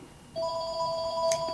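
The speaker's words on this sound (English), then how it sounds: "I apologize for the phone ringing in the background." A telephone rings behind a recorded law lecture, its steady electronic tone starting after a quiet moment and holding through to the end, with a sharper chirp near the close; moderately loud and alone, no talking.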